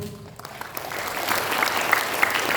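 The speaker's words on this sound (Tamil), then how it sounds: "நடனமாடிய மாணவிகளுக்கு நன்றியை கைத்தட்டலின் மூலம் தெரிவிப்போம்" Students and guests at a school Tamil New Year celebration applauding dancing students, applause building quickly from a quiet start into a full, continuous patter of many hands clapping.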